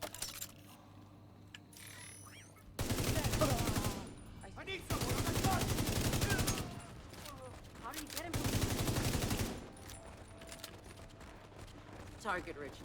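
Automated turret in a video game firing in three long bursts of rapid gunfire, loud and close, separated by quieter pauses with background game sounds.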